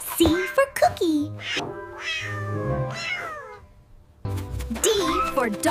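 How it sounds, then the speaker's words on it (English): A cat meowing up close, several drawn-out, wavering meows with pitch bends, plus a brief pause before more calls in a loud, clear run. "C for cat."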